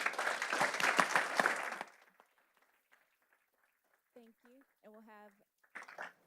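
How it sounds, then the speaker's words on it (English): Audience at a Board of Education meeting applauding an honoree, a dense burst of clapping that lasts under two seconds and stops abruptly. Quiet follows, then a few short spoken phrases. "Let's go ahead and clap for Gael"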